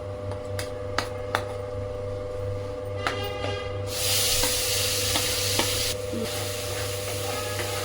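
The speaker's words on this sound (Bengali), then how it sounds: "এবার মশলাটা, পেস্ট করা মশলাটা দিয়ে দিচ্ছি।" Ground spice paste sizzles in hot oil for a Katla fish curry, a steady frying hiss with occasional spoon scrapes and taps against the pan, and the sizzle swells louder partway through.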